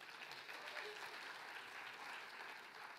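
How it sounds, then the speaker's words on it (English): A church congregation applauds steadily during a service, many hands clapping at an even level throughout. "Clap for yourselves."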